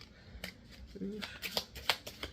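Tarot cards are shuffled and drawn from a deck: a quick series of soft riffling snaps and flicks at close range, faint and intermittent.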